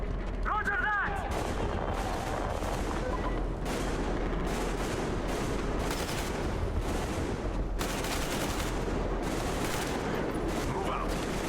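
Sustained gunfire from a firefight in the PC video game Metro Exodus Enhanced Edition, The Two Colonels DLC: dense, continuous volleys and bursts with sharp cracks throughout, loud and close, with a brief voice early on.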